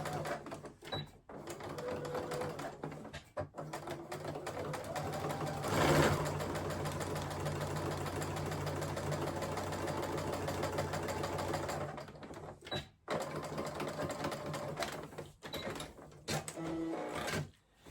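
A sewing machine stitches a French seam, running steadily and close in several bursts, including a stretch sewn in reverse, with brief stops and restarts between runs.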